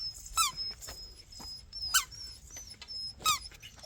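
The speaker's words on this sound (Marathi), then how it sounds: "हे पिल्ला इकडे बघ." A puppy at a hill fort in Maharashtra whimpers and yips in three thin, high cries spaced about a second apart, faint against an outdoor background.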